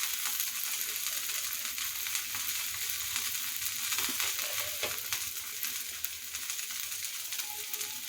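Wheat dosa frying in a little oil on a hot pan gives a steady, even sizzle with faint crackles running throughout, no voices over it.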